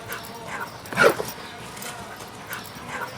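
A dog gives a short whimpering yip once, with faint rustling and movement around it outdoors.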